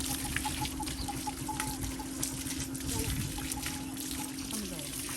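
Water pours and splashes steadily while a bull is bathed outdoors, a continuous close trickle under a steady background hum with birds chirping faintly.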